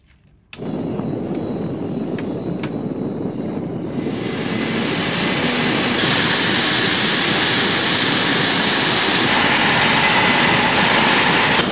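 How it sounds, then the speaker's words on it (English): An F-18 Hornet jet engine starting up: a steady loud whine and roar that builds in stages, growing louder and brighter with a high-pitched tone, continuous and close with no voices. "Cleared engine start, F-18."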